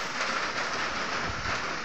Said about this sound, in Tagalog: Yung ulan niya, mahina lang yung ulan.